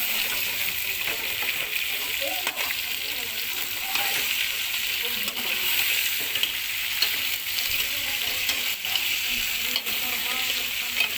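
Chicken pieces sizzle steadily in a karahi, a dense, constant frying hiss running throughout with occasional scrapes and stirring clatter, close and fairly loud.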